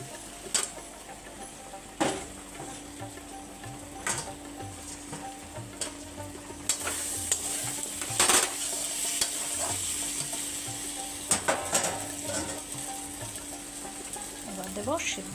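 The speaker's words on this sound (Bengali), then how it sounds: "জল দিয়ে কিছুক্ষণ কষে নেব। এবার ভেজে রাখা আলুগুলো দিয়ে দেবো।" Fried potatoes being stir-fried with spices and a splash of water in a pan for a jackfruit curry, a steady sizzle broken by repeated sharp scrapes and clacks of a spatula against the pan at irregular intervals.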